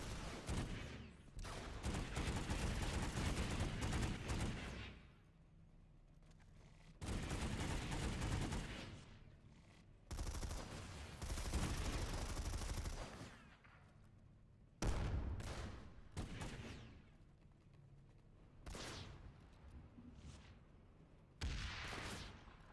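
Gunfire in a video game match, with repeated loud bursts of automatic fire lasting a few seconds each, separated by quieter gaps.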